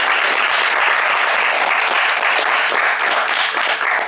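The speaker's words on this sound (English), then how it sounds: "let's first give Steve a round of applause." A dense, continuous round of applause fills a lecture hall after a talk on Lacan's four discourses, loud and even from many hands with no voices over it.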